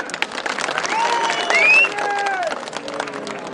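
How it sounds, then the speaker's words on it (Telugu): Audience applause at a public ward-members felicitation event with a state minister, MP and MLA, a dense, steady crowd clapping throughout with raised voices and whistle-like cries rising over it. "చప్పట్లు కొట్టండి."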